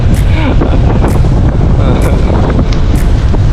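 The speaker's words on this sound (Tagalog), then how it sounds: "Ang lakas na hangin guys." Strong wind on dusty Roxas Boulevard in Manila roars steadily and loudly across the microphone, a constant rushing buffet with no pause throughout.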